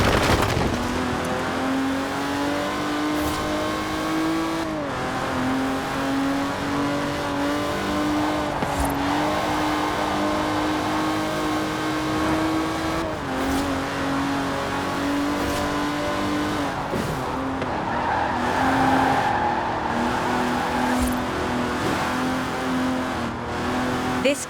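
An Aston Martin Vantage drives in Forza Horizon 4, its engine holding a steady, continuous drone with gear-change shifts in pitch. Tyre and road noise sit underneath throughout, with no talk.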